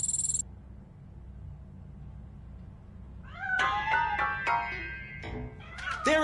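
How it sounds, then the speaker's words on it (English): Cat meowing in a video game, a brief tone at the start, then a run of several drawn-out, wavering meows after a quiet stretch, fairly close and clear with no talk over them. "That cat must be hiding inside."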